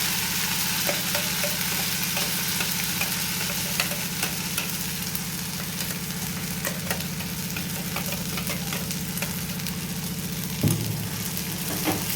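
Ground spice paste for a filling fries and is stirred in hot oil in a kadai, a constant crackling sizzle with a low steady hum beneath and occasional scrapes of the spoon, with no voices.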